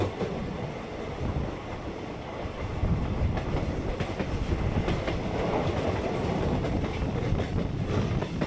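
A local train in West Bengal, heading toward Jubilee Bridge over the Bhagirathi river, rolls steadily along the rails, heard from inside with a continuous rumble and rhythmic clickety-clack of wheels that grows slightly louder midway.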